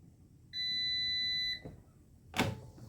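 A Cosori Dual Blaze air fryer sounds a single steady electronic beep of about one second when its cooking cycle ends, clear and close, followed moments later by a short clunk.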